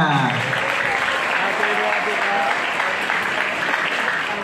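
Dense, steady applause from an audience at an Islamic and creative competition event, filling the whole stretch at a loud, even level with a little voice sound mixed in.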